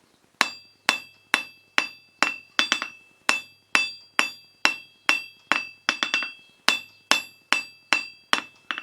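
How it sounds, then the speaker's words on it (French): A hammer strikes hot metal while forging a unicorn-horn bottle opener, ringing clinks landing in a steady rhythm of about two blows per second, each with a bright metallic ring and quick decay. "c'est de commencer à frapper loin de la pointe et après frapper au fur et à mesure vers la pointe, comme ça."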